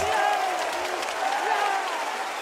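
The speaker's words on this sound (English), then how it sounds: "Oh, the crowd is on their feet." Crowd at the Royal Arena cheering and applauding during a CS:GO grand final between FaZe and Heroic, a dense roar of clapping and shouting heard behind a commentator's voice.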